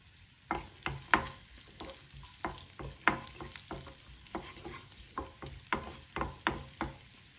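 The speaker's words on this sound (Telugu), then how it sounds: "ఇప్పుడు ఈ నేతిలో జీడిపప్పు వేసి వేయించుకోవాలి." Cashews and raisins frying in ghee in a pan for attukula kesari, a soft sizzle under repeated spatula stirs and scrapes, fairly close and quiet, with no speech.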